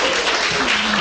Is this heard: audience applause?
yes